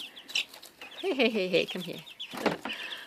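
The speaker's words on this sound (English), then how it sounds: "There's like 8 chickens in here" Several chickens cluck and chirp nearby in short bursts while a person briefly speaks.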